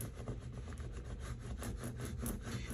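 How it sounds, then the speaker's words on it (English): A scraper rubs back and forth in steady strokes over vinyl transfer tape on a glass beer can, giving a close, continuous raspy scraping sound. "Then we're gonna take that scraper. just to press it down on the transfer tape."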